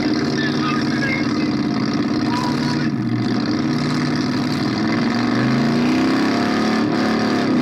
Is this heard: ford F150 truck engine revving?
yes